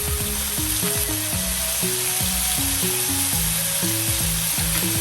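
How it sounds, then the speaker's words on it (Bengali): Soy sauce hits onions frying in hot oil, giving a steady hissing sizzle that runs the whole time beneath a stepping background melody. "এবার আমি দিয়ে দেবো এতে একটু সামান্য সয়া সস"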